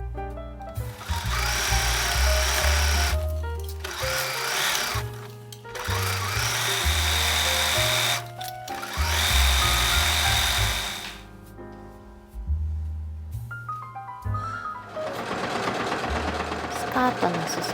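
A sewing machine stitches the side seams of a dress in several bursts of a few seconds each, separated by short pauses, all of it over steady background music.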